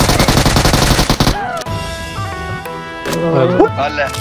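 Rapid machine gun fire from a shooting video game rattles loudly in a dense burst for over a second. Game sounds and tones follow, with voices talking in the background.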